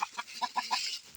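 Backyard chickens on a small ranch cluck in a quick series of short, close clucks, about five bursts in just over a second, with no talk.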